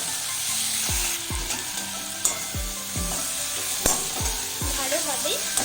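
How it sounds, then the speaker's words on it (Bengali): Chopped tomato and onion fry with egg curry masala in a pan, stirred as they cook. A steady close sizzle runs throughout, broken by repeated scraping strokes and light clinks of the spoon against the pan. "এগ কারি মশলা দিয়ে আমি ভালোভাবে টমেটো আর পেঁয়াজটাকে কষিয়ে নেব।"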